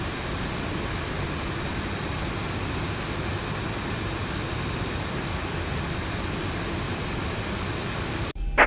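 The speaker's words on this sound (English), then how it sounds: "Look at the beautiful Boeing 737." Steady broadband roar of a Boeing 737 airliner in a flight simulator video game, a constant engine rumble that holds level throughout before a brief click near the end.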